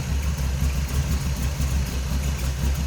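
A 1932 Chevrolet Master Roadster street rod with a 350 V8 and turbo 350 automatic idles smoothly and steadily nearby, a low, even engine rumble with no talking.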